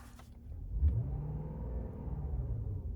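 The 5.0 GDi V8 of a 2020 Genesis G90 sedan gives a deep, steady engine rumble with a brief swell near the start, heard fairly quietly and alone for about three seconds.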